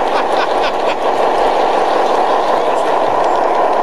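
A Revo-controlled model freight train runs along a layout with a steady, continuous mechanical whir and faint rhythmic clicking, loud and close and unbroken.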